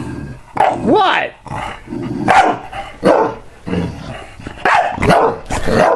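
A dog barks repeatedly up close, sharp yips and a growl, while someone speaks briefly in between.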